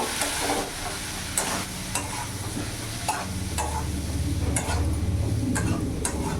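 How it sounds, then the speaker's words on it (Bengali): A spoon stirs ground cumin and Kashmiri chili powder in a hot pan, a steady soft sizzle broken by scraping and tapping strokes that come at irregular intervals and sit close and fairly quiet. "ভালো করে নাড়াচাড়া করে নেব"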